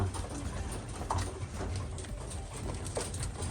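Racing pigeons coo softly after a race, faint low calls under a dense, steady wash of outdoor noise and rustling.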